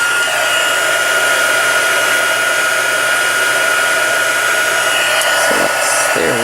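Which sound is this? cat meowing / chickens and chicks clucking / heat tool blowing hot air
heat tool blowing hot air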